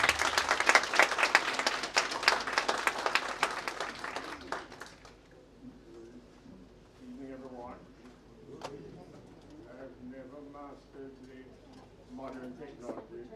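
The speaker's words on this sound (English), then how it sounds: "Please give him a round of applause." An audience at a joint lecture applauds loudly for the first four seconds with dense clapping, then it stops abruptly and someone speaks quietly, with soft cooing in the background.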